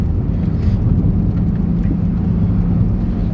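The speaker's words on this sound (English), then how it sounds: "Right now I'm driving along a small bumpy little lane full of potholes and stuff" A 2005 Maybach 62 rolling along a small, bumpy, potholed lane, heard from inside as a steady low rumble of road and wind noise with faint muffled thumps underneath.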